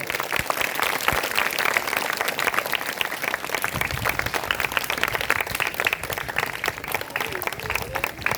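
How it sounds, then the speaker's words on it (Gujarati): An audience applauds a Student of the Year award at a girls' school graduation ceremony, with dense continuous clapping from a crowd that stays loud and steady throughout. A voice can be heard faintly under it. "આપણે બધા જોરદાર તાળીઓથી વધાવશું."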